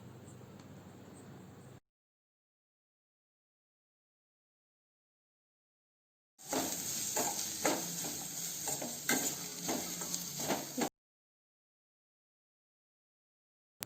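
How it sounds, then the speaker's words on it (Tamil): Chopped onions, green chillies and curry leaves sizzle in hot oil in a pan for an egg omelette, a dense crackling hiss with small stirring clicks that starts abruptly, holds steady for a few seconds and then cuts off. "இப்போ நம்ம வெட்டி வச்ச வெங்காயம், பச்சை மிளகாய், கருவேப்பிலையை போட்டு நல்லா வதக்கி விட்டுடலாம்"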